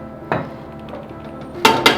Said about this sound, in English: we pour in our potato.